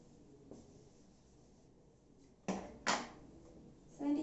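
Numbers written by hand during a sixth-grade maths lesson: soft, faint scratching strokes over a quiet room, broken by a couple of sharper, louder bursts near the end.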